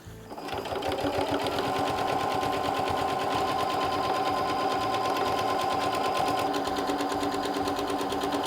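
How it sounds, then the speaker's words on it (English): A sewing machine running steadily while sewing a fabric tote bag, with a fast, even mechanical chatter that is loud and close and carries on without a break. "And then I'm just going to sew this."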